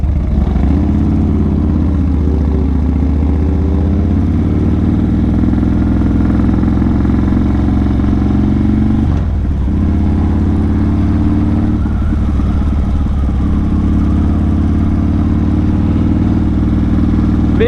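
A motorcycle pulls away at night, its engine droning loud and close with a steady low growl that rises and shifts as it accelerates through the gears over a long stretch.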